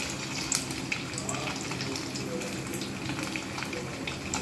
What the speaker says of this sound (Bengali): একটা একটা করে কোপ্তা করে আঁচটা কমিয়ে রেখে কিন্তু ভাজতে হবে